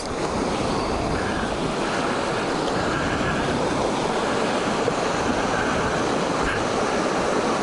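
Rushing river water after a flood surge, with silt pushed up along the banks at Agua Fria, forms a steady, broadband roar that runs loud and continuous from start to end with no voices.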